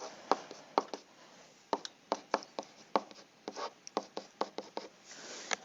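A pen writing an equation by hand on paper, with quiet close taps and short scratchy strokes in an irregular rhythm, no talking.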